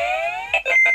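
Pause-reminder alarm on a Nintendo Virtual Boy console, which prompts a break every 15 minutes: a steady electronic tone that gives way to three loud, clipped beeps, heard alone.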